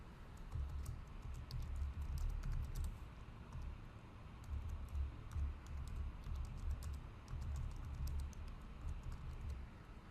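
A computer keyboard is typed on in quick, uneven bursts of faint, close key clicks over a low background hum.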